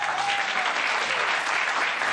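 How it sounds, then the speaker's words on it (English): An audience applauds in a dense, even burst of clapping that holds steady and fairly loud throughout, with no break or fade. "I don't know why you're clapping."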